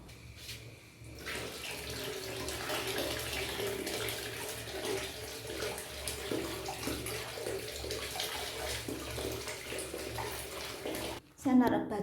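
Hot water pours steadily into a bath in a small bathroom for about eleven seconds, a continuous close rushing splash that stops abruptly near the end, followed by a brief knock.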